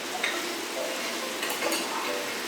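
Pickled mustard greens and tofu stir-fried over high heat in a wok, a steady sizzle with soft scraping stir strokes and occasional light clinks of utensil on metal.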